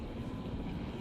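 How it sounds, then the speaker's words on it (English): Steady, droning rotor and engine hum of a helicopter in the video game Jurassic World: Evolution, even and continuous with no break or voices on top. "This helicopter is so slow."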